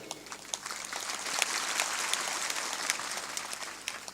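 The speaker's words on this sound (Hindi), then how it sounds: "थोड़ा जोर से ताली बजाया करो।" Sermon audience clapping together in a dense, sustained wash of applause, steady and fairly loud throughout with a few sharper individual claps standing out.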